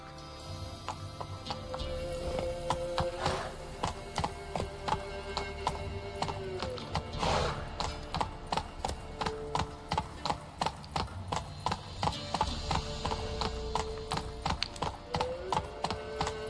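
Geralt's horse Roach galloping in The Witcher 3: Hearts of Stone, a rapid rhythmic run of hoof clops over a low music bed, picking up pace and staying steady and close throughout, no talking.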